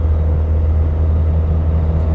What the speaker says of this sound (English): But despite the blowing exhaust,